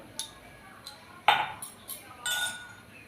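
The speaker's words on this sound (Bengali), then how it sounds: "দিয়ে এটাকে ভালো করে মিশিয়ে নিচ্ছি ব্যাটারের সাথে" A spoon mixes chili flakes into a wheat-flour batter in a bowl, making several separate, irregular clinks and taps against the bowl over a quiet background.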